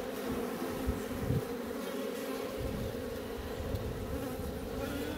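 Honey bees buzz steadily in a three-box hive opened for the first spring inspection, a dense, close, continuous drone with a low throb and no voices.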